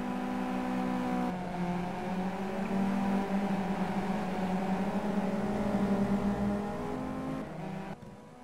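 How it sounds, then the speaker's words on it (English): A race car engine in the Simraceway racing game drones steadily with a high, buzzing whine, pitch rising and falling slightly as it runs, with no talking. "just listening there to PA's car"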